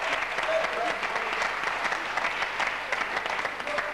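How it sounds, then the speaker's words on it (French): Studio audience at a French television word game show claps steadily for a team contestant, a dense, even wash of applause filling the room throughout. "À côté de Frédéric, Jean-Michel, qu'on va applaudir aussi, c'est l'équipe A."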